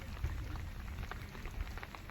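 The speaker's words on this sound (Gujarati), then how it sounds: "વરસાદ ધીમો ધીમો ચાલુ છે." Light drizzle falling steadily outdoors at night during a thunderstorm, a soft continuous patter of raindrops with no voices.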